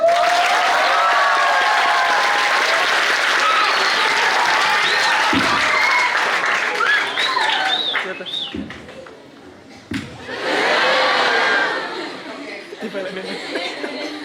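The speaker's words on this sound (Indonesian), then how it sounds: "Kasih tepuk tangan buat Ustadz." Audience clapping and cheering for an Ustadz at a tenth-anniversary Milad gathering of SahabatQu, a dense crowd roar with chatter and laughter mixed in, loud and steady, easing then swelling again near the end.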